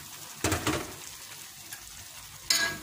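Tofu dropped into hot oil in a home kitchen pan crackles and sizzles in two short bursts, with a brief stir or clatter between them, near and moderately loud.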